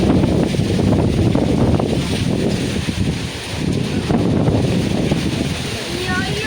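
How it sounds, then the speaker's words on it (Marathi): Sudden strong storm wind sweeping through a Konkan village with falling rain, a loud continuous roar with gusts and rustling foliage, buffeting the microphone and briefly easing midway before surging again. "अचानक वादळ वारा बापरे बाप."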